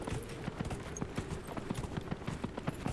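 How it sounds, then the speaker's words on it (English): Horse hooves clip-clop at a steady trotting rhythm in the video game Dragon Age Inquisition, a quick series of soft, evenly spaced beats heard close and fairly quiet. "Okay. Let's go, horsey."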